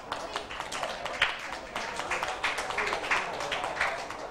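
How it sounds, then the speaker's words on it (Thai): Students in a Thai high-school chemistry classroom clapping for a classmate, a brisk uneven patter of many hands with sharper individual claps, moderately close and sustained for a few seconds. "ปรบมือให้เพื่อนด้วยนะคะ"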